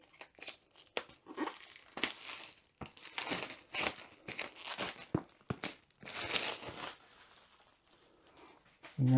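Protective plastic film peeled off the packaging of a Diamond Art Club kit during unboxing, a series of close crinkling, crackling and tearing bursts coming in uneven waves, with no talking.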